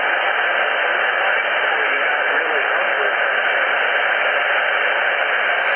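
Steady broadband static hiss from a ham radio receiver with an MFJ-1026 noise canceller while the antenna is rotated, loud and continuous throughout with no voices.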